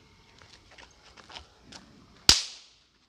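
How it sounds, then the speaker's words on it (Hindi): A rope firecracker goes off in a single sharp loud crack with a short decaying tail, preceded by faint scattered ticks and rustles. "तो ये रस्सी वाला पटाखा निकला है इसके अंदर से, तो चलिए इसको टेस्ट करते हैं।"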